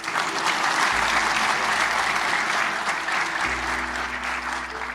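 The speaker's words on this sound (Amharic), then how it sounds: "አጨብጭቡ ለዚህ።" An audience at a motivational talk breaks into sustained applause, a dense, even wash of clapping held at steady loudness throughout.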